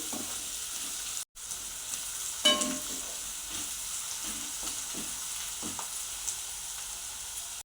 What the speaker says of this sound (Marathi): हे मोठ्या गॅसवर आपण चांगलं परतून घ्यायचं आहे ह्या भाज्या परतताना गॅसची फ्लेम मोठीच असावी